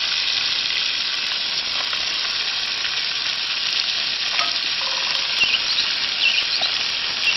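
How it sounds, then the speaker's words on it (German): Fish sizzle steadily in melted butter in a pan set over a campfire outdoors. The frying hiss is loud, close and continuous, with faint crackles and no speech. "Die Pfanne steht auf dem Feuer mit schön ausgelassener Butter. Und dort werden jetzt die Fische"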